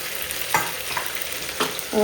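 Chickpea sundal is tipped into a hot pan and stirred, with a steady soft sizzle of frying broken by a few scraping stirs and clinks, close and alone without voices.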